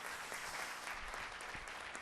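An audience applauding at a book concert and talk event, a steady, dense wash of clapping from many hands, fairly faint and distant, continuous throughout.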